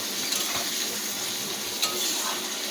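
Chicken curry masala with softened chopped tomato frying in a pan at home, a steady close sizzle running throughout with faint stirring clinks.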